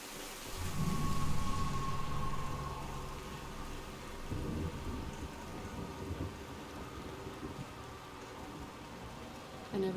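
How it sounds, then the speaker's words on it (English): Steady rain hisses through a Mass Effect scene while a low thunder rumble rolls in early and fades, with a second softer roll midway, the downpour continuing evenly beneath. "Well, this is about like the rain we had over the weekend."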